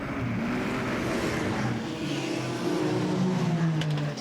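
Stock cars racing at the 2020 New Zealand Stockcar Championships at Greenstone Park in Greymouth, with several engines roaring together in a continuous, loud drone that swells slightly as they pass.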